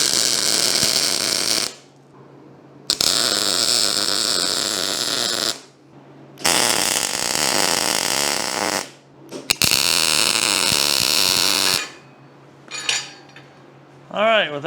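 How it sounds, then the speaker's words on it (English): A welder lays tack welds in four loud crackling bursts of a few seconds each, separated by short silences, followed by a couple of brief metallic clinks. "We're gonna give her a tack and then we'll do a little quick test."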